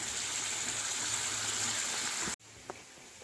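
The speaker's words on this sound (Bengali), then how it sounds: "এবারে মিশ্রণটা ঢেলে দেবো" Spice mixture poured into hot oil with nigella seeds and green chilli in a pan, a loud, steady hissing sizzle that cuts off abruptly, followed by quieter faint crackling.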